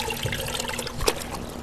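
Compost tea drains out in a soft, continuous trickle of liquid, close and fairly quiet, with a small splash near the end.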